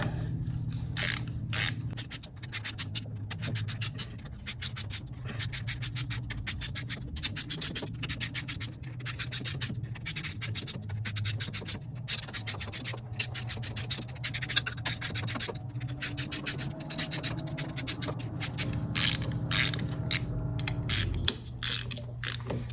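Snugging up the clutch bolts on a Harley Twin Cam in a crisscross pattern makes a steady rapid ratchet clicking, close and continuous with brief pauses between bolts, over a low background hum.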